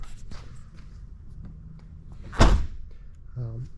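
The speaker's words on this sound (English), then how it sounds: "And then close the door." The door of a Jeep Commander shuts with a single solid slam, close and loud, after some quiet handling sounds. A short faint voice follows.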